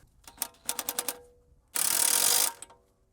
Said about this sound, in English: Now I'm gonna use impact with this socket.